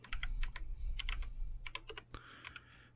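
Rapid keystrokes clack on a modded mechanical keyboard, close up, in uneven bursts with a deeper thock on the larger keys.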